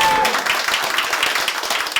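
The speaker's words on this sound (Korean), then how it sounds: "이상 박수로서 마치도록" An audience at a live public recording of a Korean talk show applauds in a dense, steady patter of many hands, lasting about two seconds.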